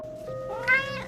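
A cat meows once in a rising, drawn-out cry over a steady background tone, set in a spooky horror-story scene.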